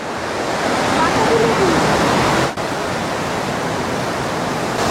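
The Rimbi river near Pelling flows in a steady, broadband rush of water, loud and continuous, with no talk over it.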